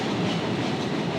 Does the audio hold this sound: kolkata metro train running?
yes